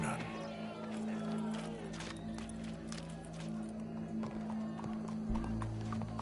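Horse hooves clip-clopping in Red Dead Redemption II, a steady walking rhythm of hoofbeats over a low ambient hum with faint crowd murmur in the background.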